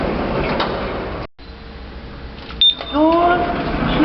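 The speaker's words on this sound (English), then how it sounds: "Doors opening." Lift doors opening in a multi-storey shopping and parking building in Winchester, a mechanical sliding rumble that cuts out briefly, followed by a short high chime and some whirring as the doors part, with faint voices around.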